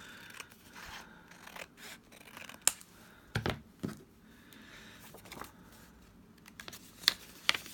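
Scissors trimming across the top of a card in a papercraft pocket project, with soft close snips and a few sharper clicks scattered over several seconds, quiet and near.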